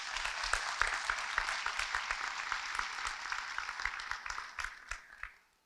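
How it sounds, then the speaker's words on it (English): Applause from an audience at a fire department awards and recognition ceremony, dense steady clapping from a crowd that holds level for several seconds and then fades out. "one more round of applause for them"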